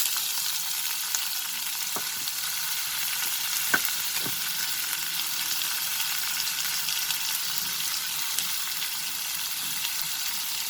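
Dried red chilies and onion fry in hot oil with a steady, even sizzle, broken by two or three faint stirring clicks near the start.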